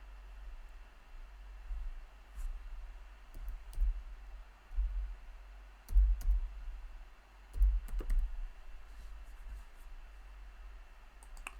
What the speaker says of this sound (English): Type in the rather long code that they sent.